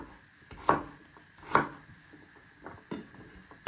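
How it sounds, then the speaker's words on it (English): A knife chops carrots on a cutting board in a few separate, fairly quiet strokes, with short pauses between cuts. "So you just keep chopping them."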